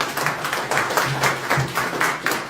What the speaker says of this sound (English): Please, a beautiful round of applause.